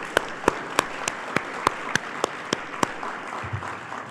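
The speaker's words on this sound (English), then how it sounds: "Please, a hand of applause for all of them." Applause for graduates at the Pawnee Nation College graduation ceremony, a broad crowd wash punctuated by sharp, regularly spaced claps standing out near the microphone, fading slightly toward the end.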